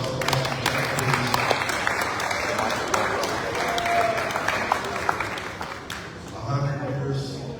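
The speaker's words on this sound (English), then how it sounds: "Can I have a round of applause for Captain Jack, please?" Sustained applause from a crowd at a 100th birthday celebration, steady clapping for several seconds that dips briefly before swelling again.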